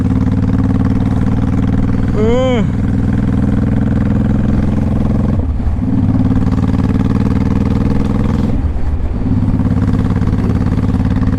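A 2005 Honda Shadow Sabre 1100 motorcycle engine runs hard and steady at high revs under heavy throttle, loud and close, with brief dips in pitch as it shifts, and a rising whine early on.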